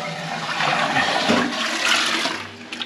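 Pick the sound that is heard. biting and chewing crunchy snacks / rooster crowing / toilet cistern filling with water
toilet cistern filling with water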